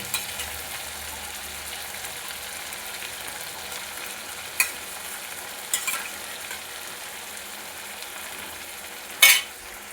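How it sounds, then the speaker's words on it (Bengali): Mutton sautés in a spice masala with a quiet, continuous frying hiss, broken by a few distinct scraping stirs of a utensil in the pan, the last one loudest. "মশলাটা আমার মোটামুটি কষানো হয়ে গেছে এবারে মাংসটা দিয়ে আরও কিছুক্ষণ কষিয়ে নেব"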